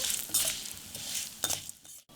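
White sesame seeds roast and get stirred in a hot pan, with a light, steady sizzle and patter broken by scraping strokes of a spoon against the pan, close and fairly quiet.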